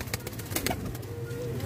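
Border pigeons kept for sale coo softly nearby, a faint, low throaty calling over a steady background hum.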